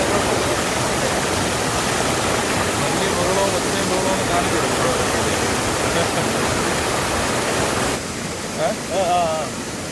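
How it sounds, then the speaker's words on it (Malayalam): Steady broadband rush of a waterfall fills the scene, loud and continuous, with faint voices briefly audible near the end. "ഒട്ടും പ്രതീക്ഷിക്കാതെ ഒരു വെള്ളച്ചാട്ടം കണ്ടു"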